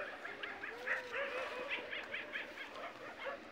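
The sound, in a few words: group of dogs barking at night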